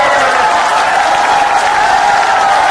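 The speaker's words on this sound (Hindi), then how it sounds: "आप सब लोग तालियां बजाकर के आदरणीय बहन जी का स्वागत करने का" A large crowd at a Bahujan Samaj Party election rally in Prayagraj claps and cheers, a loud, continuous roar of applause and voices filling the whole stretch.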